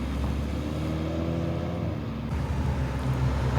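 Kia Stinger fitted with a rear wing, driving along with a steady engine hum and road noise throughout, moderately loud with no speech.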